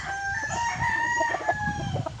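A gamefarm rooster, a double-banded Dark Allen gamecock, crows loudly and close at hand, its long strained call rising and holding over background clucking and farmyard fowl noise.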